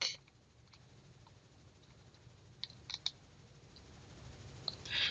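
Mouse clicks while navigating a library's web page, a handful of faint, sharp clicks spaced irregularly, some in quick pairs, over quiet room hiss with no talking.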